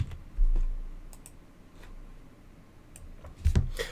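Someone types on a computer keyboard while drawing a process diagram in Visio. A few scattered, faint key clicks sit over quiet room tone.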